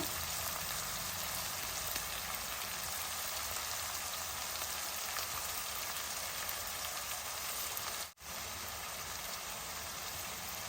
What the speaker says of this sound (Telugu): ఫ్రెష్ కరివేపాకు వేసి మంచిగా తిప్పుతూ వేగనిద్దాం